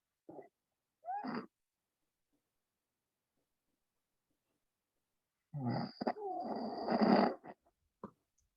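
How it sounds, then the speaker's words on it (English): A person snores nearby in a quiet room: a short snort, a longer rasping breath, a long silence, then a drawn-out wheezing snore ending with a brief final snort. "Someone's snoring."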